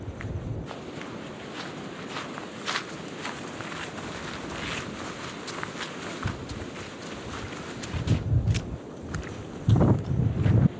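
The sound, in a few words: wind blowing on a mountain trail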